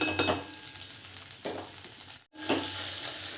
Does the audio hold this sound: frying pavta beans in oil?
yes